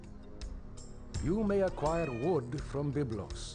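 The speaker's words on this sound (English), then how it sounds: "you can hear my cat screaming in the background because it's almost her dinner time." A hungry house cat meows loudly and repeatedly near its dinner time, giving several drawn-out, wavering cries in the background while a person speaks over them.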